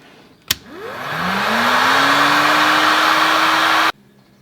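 A hair dryer switches on with a click and rises to a steady, loud whoosh with a rising motor whine, running continuously while drying a de-rusted axe head, before cutting off abruptly.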